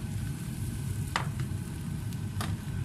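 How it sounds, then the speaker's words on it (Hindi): Swedish pancake batter cooks in a pan with a soft, steady sizzle close by, broken by a couple of brief clinks or scrapes, and no talk. "इसके अंदर तैयार हो रहा है पान केक है, स्वीडिश पान केक"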